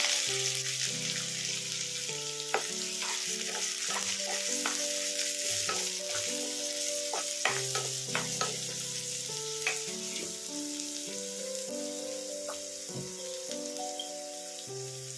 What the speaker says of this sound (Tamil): ஒரு 4-5 பெரிய வெங்காயம் எடுத்து வச்சுருக்க பொடி பொடியாக கட் பண்ணி போட்டு நல்லா எண்ணெயில் நல்லா வணக்கிடலாம்.